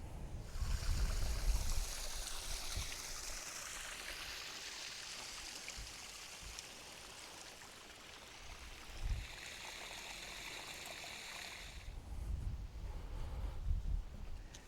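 Clear stream water flowing steadily near Dwarf Hill at Lydney Park, a continuous close rushing and burbling that swells slightly at the start and end, with no voices.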